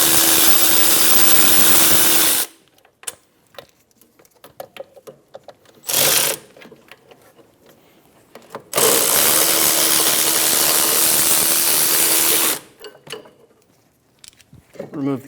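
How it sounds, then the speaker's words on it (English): A power tool spins 19mm socket on caliper bracket bolts of a 2003-2007 Infiniti G35, loud steady whirring bursts of a few seconds each, separated by quieter clinks and handling noise. "Using a 19mm socket, remove the caliper bracket bolts."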